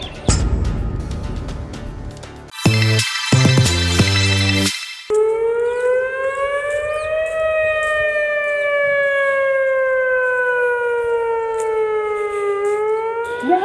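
A loud dam warning siren at Bhakra Dam wails alone, signalling water release, its long steady tone rising and falling slowly after a few shorter blasts at the start.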